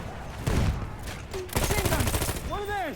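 Rapid gunfire from Battlefield 1 rattles in close, loud bursts, with a fast stuttering string of shots in the second half, alongside in-game clatter and rising whistling tones.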